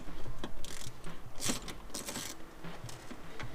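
A ratchet undoes a 10mm bolt on the stock air box of a Toyota GT86 / Subaru BRZ / Scion FRS, giving close, rapid clicking strokes in several short runs with metallic rattles.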